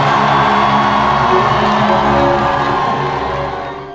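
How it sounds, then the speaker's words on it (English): Crowd at an international peace walk event cheering and applauding as a speaker is welcomed, a loud broad wash of voices and clapping that holds steady and then fades slightly at the end. "Let's welcome her with a warm round of applause."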